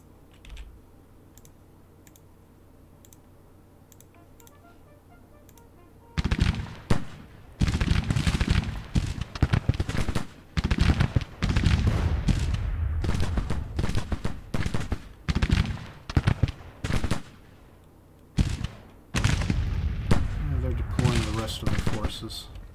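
Artillery and rifle fire from a Civil War strategy game depicting the Second Battle of Winchester: after a quiet stretch, dense volleys of loud cracks and booms erupt and continue in rapid bursts, with a voice talking over the battle.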